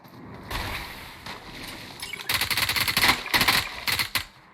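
Rapid bursts of gunfire in PUBG Mobile rattle in quick strings, growing louder and denser toward the end, sounding like automatic weapons.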